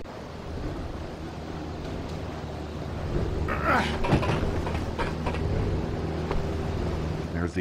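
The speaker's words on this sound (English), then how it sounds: "With the propellers running at full speed, it was real cold and real windy." Airship propellers at full speed and cold wind on the airship's roof in an Indiana Jones video game, a steady mechanical drone and whooshing gusts that grow louder midway, with someone talking over them.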